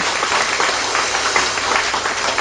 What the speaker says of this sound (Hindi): जोरदार तालियां एक बार और यीशु के लिए